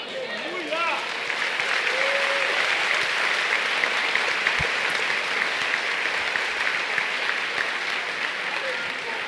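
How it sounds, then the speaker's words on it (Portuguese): A church congregation breaks into sustained, loud applause that holds steady for several seconds, filling the hall with dense clapping. "Um aplauso ao Senhor."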